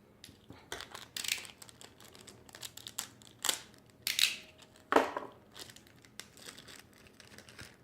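Plastic packaging around a figure is sliced open with a small utility knife, producing scattered sharp crinkling and cutting bursts between quiet gaps. It is faint and close, with no speech.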